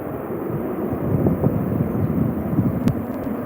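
A military jet takes off at RAF Lakenheath, heard as a broad, roaring low rumble of engine thrust with wind buffeting, sustained and fairly loud at a distance.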